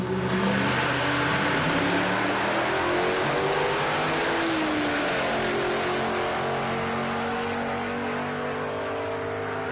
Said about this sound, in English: Needed a bigger burnout. Listen to it.